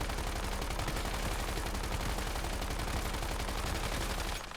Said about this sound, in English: we're going to shoot with our bingo, swap to our Abyss Glance, and then fire away